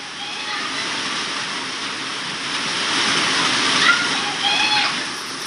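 Torrential rain pours onto a flooded street in the Sector V office district, making a dense, steady roar of water. The roar swells slightly partway through, and faint splashes rise above it.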